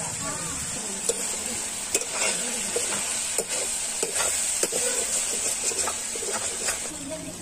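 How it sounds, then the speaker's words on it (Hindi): Chicken masala for Chhattisgarh-style chicken surwa fries on low heat with a soft, even sizzle, while a spoon scrapes and clinks against the pan in irregular strokes. "पंद्रह से 20 मिनट इसे लाल के होते तक तलना है और धीमी आंच पे"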